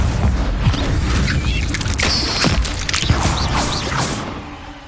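A Confringo blasting spell bursts in Hogwarts Legacy amid a fight with a giant spider, with dense whooshing, thumping booms and creaking mechanical clatter stacked over a roaring bed, loud and close throughout.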